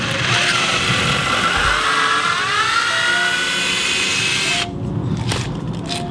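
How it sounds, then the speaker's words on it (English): A drill runs steadily into a carbon fiber steering wheel part on a Subaru STI, a loud whining motor that bends slightly in pitch, then cuts off and leaves a few light clicks and taps. "Now we're just drilling the second one here."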